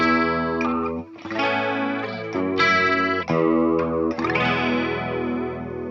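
Guitar played through the 70s chorus effect of a Line 6 Helix Stadium XL, an old C1-style chorus, gives shimmering, wavering chords and sustained notes that ring on continuously, loud and close, with no talking.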